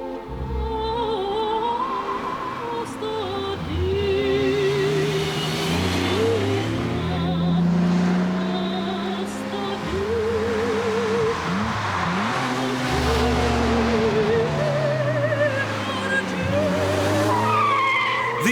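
Small Italian city cars thrashed hard through urban streets, tyres skidding and squealing over revving engines, loud and continuous throughout.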